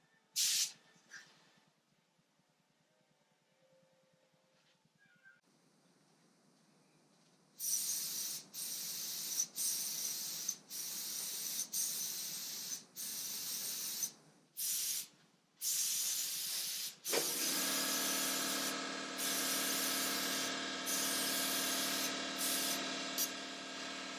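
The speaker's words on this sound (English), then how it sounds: "I wanted to spray these because they were such a large area and I could get a smoother finish on them" Paint sprayer coating a child's table outdoors in the shade: after a quiet start, repeated bursts of bright, close hissing spray come in short on-off pulses, then a longer continuous pass with a steady motor whine underneath.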